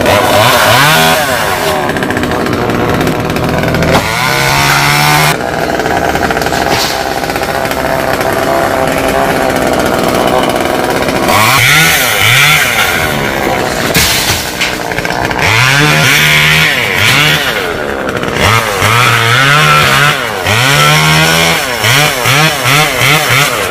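A chainsaw cuts through coconut trees in Dong Nai, its engine roaring loud and close without a break, revving up and bogging down as the chain bites into the trunks.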